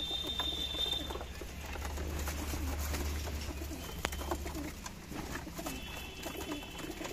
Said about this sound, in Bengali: এগুলো সব বাড়ির রামপুরি, সরি কালা সবুজ, কালদম আর নাপ্তা পায়রা, বাড়ির সব বাচ্চা এগুলো আর কি।